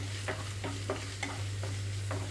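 Onions and ginger paste fry on a medium flame, a soft steady sizzle under a constant low hum, broken by several scraping spoon strokes as the pan is stirred.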